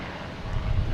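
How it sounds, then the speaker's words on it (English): A propeller plane engine at Boston Logan Airport gives a steady, low, broadband drone that builds slightly over one second, with some wind buffeting the microphone. "all of a sudden you hear a prop going, like these are prop planes."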